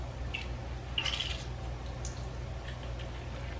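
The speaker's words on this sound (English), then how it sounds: "I'm going to squeeze some of the water out of it." Water squeezed out of food during cooking, faint scattered drips and small wet squishes over a low steady background hum.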